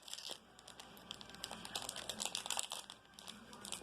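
A Pokemon card pack's foil wrapper crinkles and tears open by hand, close-up rustling in quick irregular bursts with no talk.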